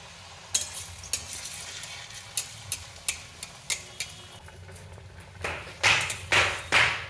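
Malpua frying in a pan, with a steady low sizzle under repeated sharp taps and scrapes of a utensil, building to louder bursts of spattering near the end; close and fairly quiet, no talking.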